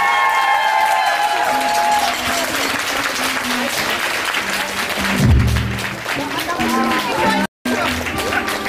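Concert audience applauding between songs, a dense, sustained wash of clapping with cheers and crowd voices mixed in, loud and close throughout, with a brief dropout near the end.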